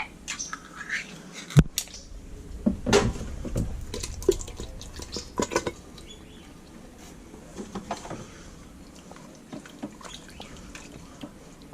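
A spoon stirs cream of mushroom soup into tender beef in an Instant Pot, making faint wet squelches and scattered soft clicks against the pot, some sharper knocks near the start, with quiet stretches between.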